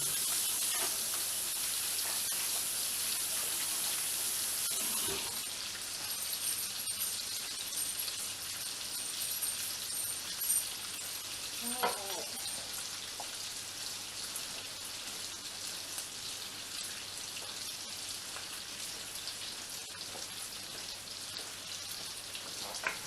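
Onion sizzling steadily in a frying pan for fried cabbage, a dense crackling hiss that eases slightly partway through, with a few faint clinks and stirs.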